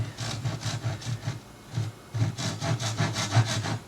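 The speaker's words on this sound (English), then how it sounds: "Then you take your handsaw and you cut that." A handsaw cuts through wood for a simple cutting board, producing steady rhythmic back-and-forth rasping strokes, close and fairly loud, with a brief pause midway before sawing resumes.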